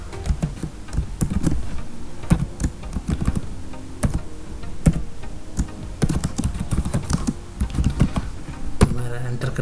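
Steady typing on a computer keyboard during a MySQL tutorial, with irregular close-up clicks and keystroke bursts running throughout, mostly alone with little speech.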